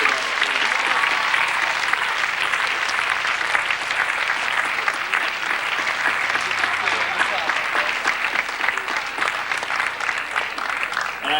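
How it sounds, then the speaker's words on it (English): An audience at a high school distinguished alumni awards ceremony gives sustained, loud applause, a dense steady clatter of many hands clapping that fills the room without a break. "let's give a round of applause for the gentlemen here today"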